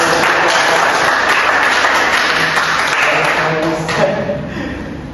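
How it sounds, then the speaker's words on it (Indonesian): A group of students applauds at the close of a class presentation, a fairly loud, steady clapping that tapers off toward the end. "tepuk tangan dulu kita semua yang ada"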